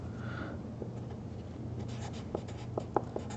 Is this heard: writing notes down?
yes